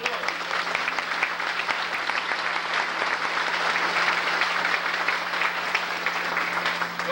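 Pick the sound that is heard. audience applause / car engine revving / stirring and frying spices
audience applause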